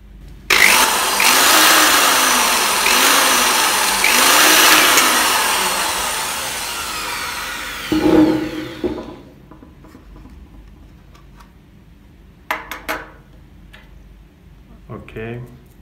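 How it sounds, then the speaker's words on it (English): A power drill bores a hole into the plastic case of a z-wave unit, a loud whirring grind lasting several seconds with pitch wavering, then a brief burst and scattered handling clicks and taps afterward. "We need a hole."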